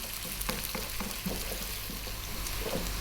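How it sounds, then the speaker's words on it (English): Low, steady frying of onion, garlic and fresh ginger in a pan, with irregular soft scrapes and knocks as the mix is stirred around, fairly quiet and close. "we're going to fry this around, moving it for about 3 or 4 minutes"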